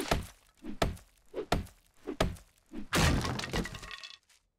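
Loot containers being smashed open in the survival game 7 Days to Die: a run of five sharp, hard breaking thunks at a steady rhythm, the last a longer crashing shatter with a splintery, glassy tail, loud and close.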